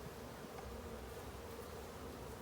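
Honeybees buzzing steadily during a hive inspection, a soft, continuous hum from the open colony that stays even throughout with no speech over it.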